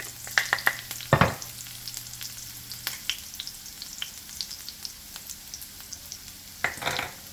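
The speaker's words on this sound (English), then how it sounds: "I'm gonna add my garlic. Give it a nice aroma." Garlic sizzles and crackles in a hot pot at medium-high heat, with steady soft frying and a few louder stirring scrapes and clinks close by.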